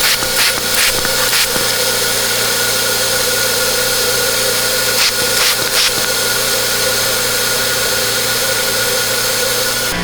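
A tuned performance engine runs steadily at idle with a constant hissing rush from air leaking at a loose intake horn, loud and continuous, with a few brief clicks and knocks over the drone.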